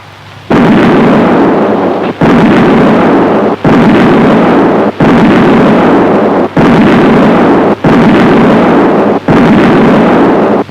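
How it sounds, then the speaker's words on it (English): A 1960s Saab cartridge gunfire simulator fires a run of loud, booming blasts. There are about seven of them at steady intervals of roughly 1.5 seconds, and each one holds as a broad roar until it cuts off sharply. "The gunfire simulator is made in 2 versions, for 15 or 30 cartridges."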